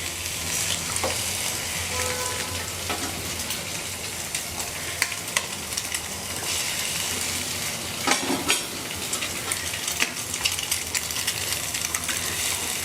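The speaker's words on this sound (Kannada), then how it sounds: "ಚೆನ್ನಾಗಿ ಈರುಳ್ಳಿ ಫ್ರೈ ಮಾಡ್ಕೋಬೇಕು" Onions frying and being stirred in a pan for egg burji, a steady broadband sizzle with scattered scraping and clinking stirs, close and continuous with no talk.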